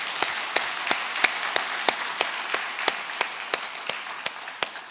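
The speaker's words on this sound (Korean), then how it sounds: "우리 박수 한번 해주시기 바랍니다." A Korean church congregation applauds during Sunday worship in a full, sustained ripple of clapping, with sharp rhythmic beats standing out at a steady pace.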